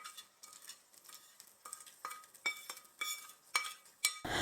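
A spoon scrapes and stirs a tempering of chillies and curry leaves into peanut chutney, soft repeated scraping strokes with light clinks, faint and close.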